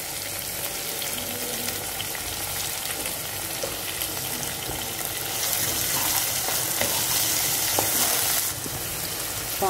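Cut tomato frying in oil with onions and green chillies for an egg and potato gravy, giving a dense, continuous sizzle with scraping and stirring noises. It grows slightly louder partway through and has no talking.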